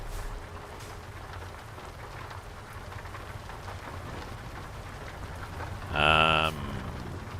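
Steady rain hisses throughout Euro Truck Simulator 2 on a South America map, a constant broadband wash over low rumble, with a brief louder tonal sound near the end.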